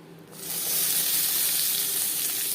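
Chicken pieces hit hot mustard oil and erupt into a loud, bright sizzle that swells after a quiet moment and keeps crackling steadily, close up with no talking.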